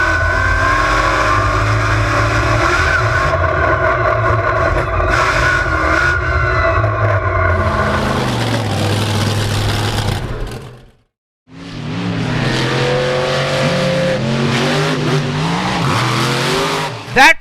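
Onboard a Bigfoot monster truck racing at the Indiana State Fairgrounds, a loud, close engine roar rising and falling with revs, cutting out briefly for a jump before the engine thunders back in.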